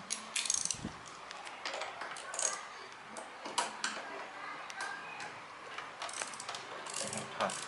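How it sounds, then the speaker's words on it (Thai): Nut being loosened and removed on a Honda Wave125i motorcycle, heard as scattered close metallic clicks and ratcheting ticks at an irregular rhythm, with faint background noise. "มันถอดน็อตตรงนี้ออกนะครับ"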